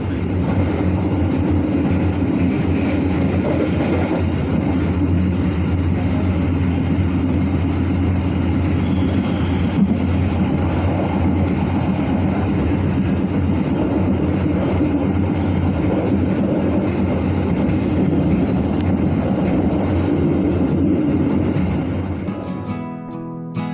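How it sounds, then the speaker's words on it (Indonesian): A loud, continuous rumble of the Bangunkarta passenger train passing straight through Gawok station without stopping, with rattling wheels and a steady roar, fading slightly at the very end. "kereta api Bangunkarta melintas langsung di stasiun Gawok"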